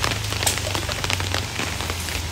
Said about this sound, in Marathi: खूपच पाऊस आहे आज.